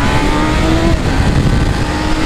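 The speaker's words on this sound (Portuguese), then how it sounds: "eu tô acelerando a moto" Motorcycle engine revving hard under acceleration, a steady loud growl with rising tones throughout, close by and alone.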